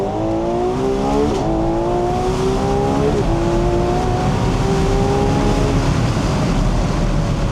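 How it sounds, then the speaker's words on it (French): A Ferrari 12Cilindri Spider, the open-top twelve-cylinder model, accelerates hard: a loud, close engine note climbs steadily with two quick gear-shift dips before pulling on through the next gears. "Allez, on accélère."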